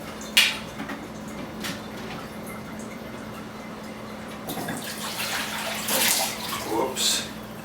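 Rinse water from washed vegetables poured into a bowl, a faint trickling and splashing in a kitchen that swells toward the end, with light knocks and low background hum.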